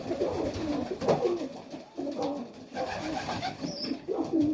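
Junior Serbian highflyer pigeons coo inside a loft, soft repeated throaty calls in uneven overlapping bursts, close and moderately quiet.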